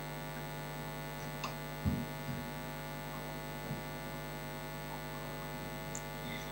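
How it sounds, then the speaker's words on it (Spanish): Radio noise on the communications link during Space Shuttle Endeavour's reentry: a steady, faint buzzing hum with tonal overtones, broken by a few soft clicks, with no voices. "Se empiezan los ruidos de radio, como podemos escuchar ahora."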